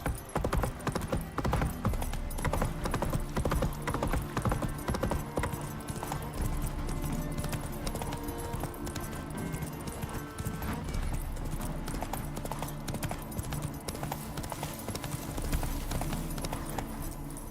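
Horse hooves from The Witcher 3: Wild Hunt, a continuous clip-clop of galloping carried along under busy game music and ambience, holding a steady pace and loudness from start to finish.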